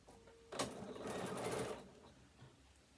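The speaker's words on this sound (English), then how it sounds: "put your finger on, bring it back down level and start to stitch" A sewing machine stitches a fabric tablet holder in a short, close burst of about a second, whirring softly, then stops in a quiet room.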